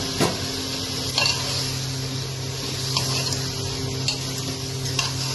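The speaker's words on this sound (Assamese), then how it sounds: "আলু দি আৰু অকণমান সময় ভাজি দিম।" Potatoes frying in a pan during a home mutton curry: a low steady sizzle with a few sharp clicks of stirring at intervals, fairly quiet and close.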